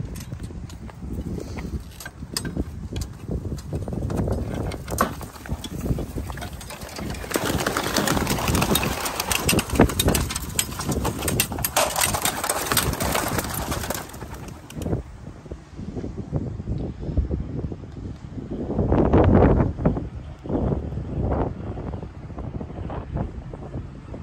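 A large group of racing pigeons is released from a transport crate after a long drive. Flapping wings burst out in loud flurries amid wind buffeting the microphone outdoors, with a second surge of wingbeats near the end.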